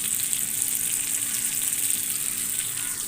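Fish pieces sizzling steadily in hot oil in a pan, a dense, even crackle and hiss close up with no talking.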